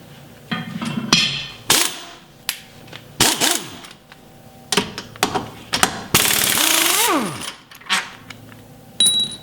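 Impact wrench spinning out the lower mounting bolts while a Rough Country front winch bumper is installed, giving loud, repeated bursts of rattling hammering separated by short pauses, with metallic clinks between them.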